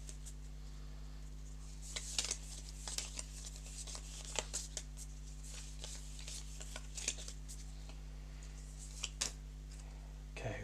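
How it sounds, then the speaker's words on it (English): Playing cards are shuffled during a live play test of a board game, giving soft scattered riffles and clicks, faint and intermittent over a steady low hum, with no talk. "I want to shuffle these up so that the crits aren't all together"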